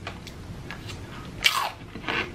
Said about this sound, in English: let me have a bite for you right now